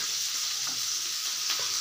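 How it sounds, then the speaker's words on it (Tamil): Village fish curry bubbles and sizzles in a pot as fish go in, a steady close hiss of boiling liquid with a few soft stirring knocks, and no voices. "குழம்பு சூப்பராக கொதிச்சிருச்சு"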